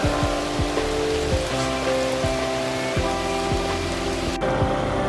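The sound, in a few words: rain falling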